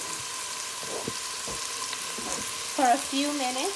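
Seasoning sizzles and fries in hot oil in a home kitchen pan, a steady close crackle throughout while someone speaks over it.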